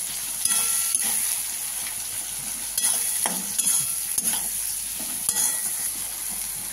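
Coriander-cumin powder is stirred in a hot frying pan, a continuous close sizzle overlaid with scraping strokes and several clinks of a spatula against the pan.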